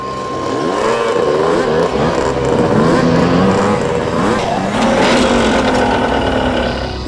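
Several motorcycles ride past one after another, loud revving engines rising and falling in pitch as each passes close by, with no speech over the roar.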